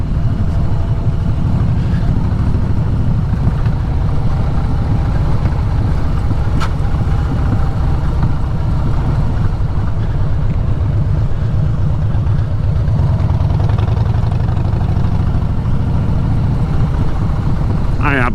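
A Harley-Davidson Fat Boy motorcycle engine rumbles steadily and loudly close by, a continuous low throbbing drone with no break.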